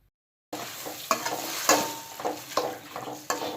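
Mussels with Thai basil stir-fried in a pan, with a steady sizzle broken by repeated scraping strokes of a spatula, close and fairly loud, after a half-second of silence at the start.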